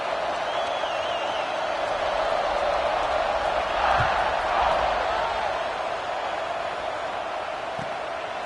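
A steady, dense roar from a big football stadium crowd at an Auburn versus Alabama game before the kickoff, a constant wash of cheering that swells slightly midway and carries on without breaks.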